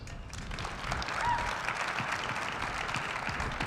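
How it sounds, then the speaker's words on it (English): A graduation audience claps steadily, a broad even wash of applause from a large crowd heard at moderate distance, with no talking over it. "Clap if you've seen Ryan at one of your events"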